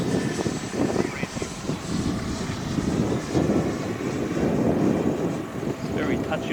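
A 3D-printed Cessna DragonFly RC model plane flies overhead, and its motor gives a steady, moderate buzz and whir under wind noise.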